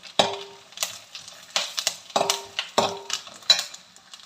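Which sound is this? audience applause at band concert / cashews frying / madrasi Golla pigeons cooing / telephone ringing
cashews frying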